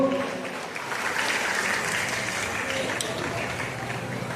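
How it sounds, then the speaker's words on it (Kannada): Audience applause at a college annual gathering in a village, a steady, dense wash of clapping that holds evenly throughout, with faint voices mixed in underneath. "ಎಲ್ಲರೂ ಜೋರಾದ ಚಪ್ಪಾಳೆ ತಟ್ಟಬೇಕು."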